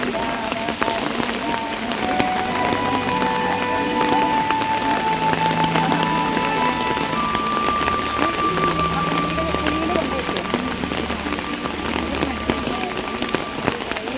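Heavy monsoon rain pours steadily onto surfaces in a continuous dense hiss, with faint tones and voices murmuring softly beneath it.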